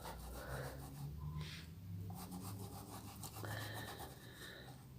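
A small upright paintbrush works paint inward from the edge, giving soft, quiet scrubbing and rubbing strokes close by, with light faint rustles in between.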